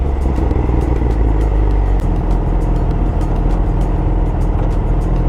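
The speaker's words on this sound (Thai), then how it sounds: "สลับเกียร์ อัดเกียร์ขึ้น" A motor vehicle engine runs loud and close, holding a steady drone, then dropping in pitch as a gear shifts and continuing to pull under load, with no voices.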